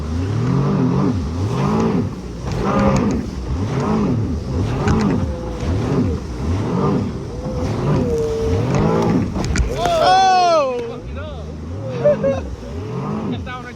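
A jet ski engine runs on a lake with a steady, rhythmic pulsing drone that rises and falls repeatedly as the rider works the throttle, ending in a sharp high rev near the end, close and loud.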